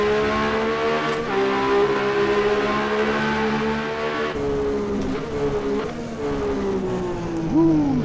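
A 1982 Ferrari 126C2 Formula 1 car in the racing simulator rFactor 2 holds a loud, steady high-pitched engine whine that drops and rises through gear changes near the end, continuous and close with no talk.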